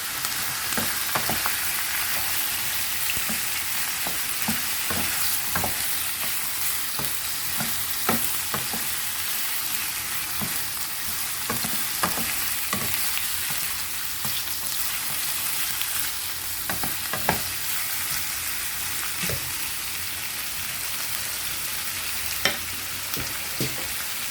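Pork belly and chicken neck fry with chopped bay leaves, onion, garlic and ginger, a continuous crackling sizzle broken by repeated scraping and clacking of a utensil stirring the pan, with no voices.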